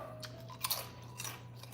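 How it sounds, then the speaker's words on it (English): Cheddar and sea salt potato chips crunch between teeth in a couple of close, crisp bites over a steady low hum. "We got these cheddar and sea salt potato chips"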